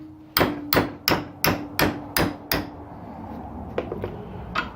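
A metal piece clamped in a vise takes seven loud, evenly spaced hammer blows, each striking with a sharp metallic ring, and then the shop goes quiet apart from a few faint clinks.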